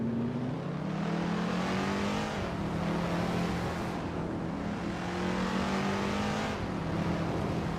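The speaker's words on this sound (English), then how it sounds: "Shadow Army is driving a 1966 Shelby G350." A 1966 Shelby GT350 in a racing video game, its engine droning steadily at high revs in repeated rising pulls through the gears, loud and close, with no voices.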